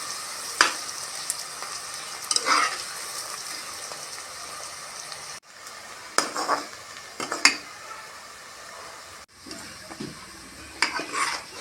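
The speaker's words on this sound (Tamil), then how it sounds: "இந்தளவுக்கு வெங்காயம் பொரிஞ்சு வரணும்" Large onions fry in a pan for seeraga samba chicken biryani, a bright, close sizzle punctuated by repeated bursts of spatula scraping and clattering against the pan, split by two abrupt cuts.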